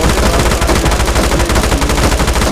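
Sustained rapid automatic gunfire in the Livik battle-royale mobile game, used to kill a bot; loud, close and continuous for the whole stretch, with no talk.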